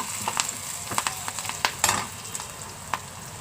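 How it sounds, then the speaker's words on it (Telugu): Onions, green chilies, mustard seeds, cumin and garlic fry in hot oil for a tomato gongura curry, crackling and popping in quick irregular bursts over a steady sizzle, close up with stirring and no talk. "మొదటిగా ఉల్లిపాయలు, పచ్చిమిరపకాయలు, ఆవాలు, జీలకర్ర, వెల్లుల్లిపాయలు వేసుకొని ముందు వేపుకోవాలి"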